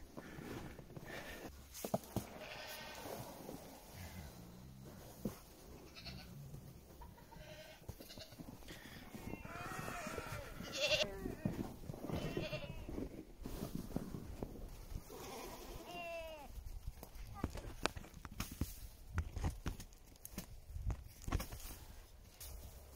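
Several goats bleat repeatedly at close range on a farm in winter, overlapping calls scattered throughout, with occasional shuffling and rustling in between.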